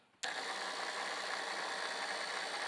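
A Treker 4410 linear actuator, powered from a 12-volt benchtop supply, starts abruptly and runs with a steady, close mechanical whir and buzz that holds at constant loudness to the end, with no voices.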